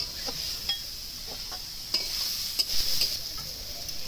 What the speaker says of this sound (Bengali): তো চলো নারকেলটাকে ভালো করে ভেজে নিক।